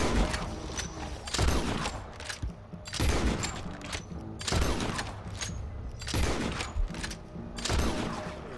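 Six-shooter gunfire in Red Dead Redemption 2 during a bounty hunter fight, as a series of loud separate shots spaced about a second and a half apart, each one echoing and fading.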